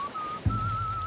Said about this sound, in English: I'm playing my drum and whistling